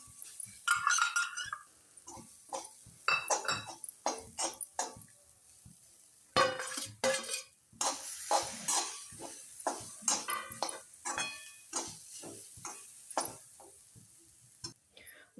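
Grated coconut fried in a pan while being stirred, giving irregular scraping and clinking strokes of a utensil against metal, close and fairly loud.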